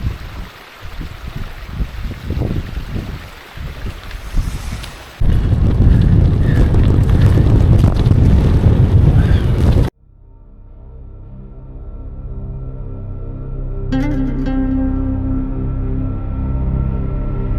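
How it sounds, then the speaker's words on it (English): Strong wind gusting up a valley buffets a nearby microphone in loud, roaring gusts that rise and drop abruptly, with a low rumble underneath. "It's gusting up this valley."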